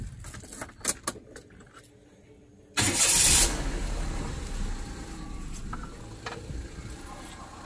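A Perodua Viva with a newly fitted ignition coil is cranked after some faint clicks and rattles, catching with a sudden burst of revs before settling into a steady idle.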